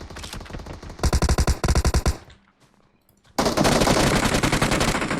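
M762 assault rifle fire in the video game PUBG Mobile: two quick, loud bursts of rapid shots, a brief near-silent pause, then a longer sustained stream of automatic gunfire.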